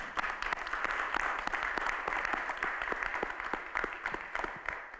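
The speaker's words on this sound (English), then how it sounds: "Well, one more time, I've got to give you a round of applause." An audience at a school board meeting gives a sustained round of applause, with a dense, even patter of many hands and individual claps popping out close by.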